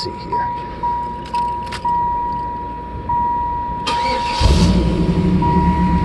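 A 1994 Camaro Z28 V8 with Flowmaster mufflers cranks several times with short bursts before catching and settling into a loud, rumbling idle close by.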